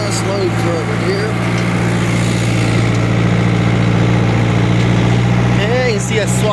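A tractor engine idles close by with a steady low rumbling throb throughout, while someone talks over it.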